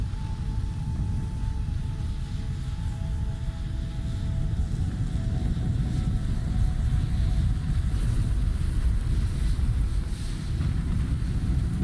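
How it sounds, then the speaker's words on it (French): A rocket makes a violent atmospheric reentry in Kerbal Space Program 2, heard as a loud, steady, roaring rush of wind-like noise that holds without a break for about twelve seconds, with no talk over it. "Ah, c'est ce qu'on appelle une rentrée très très violente dans l'atmosphère"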